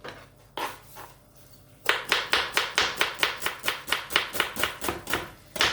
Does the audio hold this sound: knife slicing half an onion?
yes